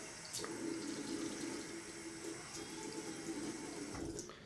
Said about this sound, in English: I do want to add just a splash of water to soften up what's in my bowl here.